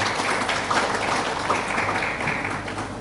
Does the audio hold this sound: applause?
yes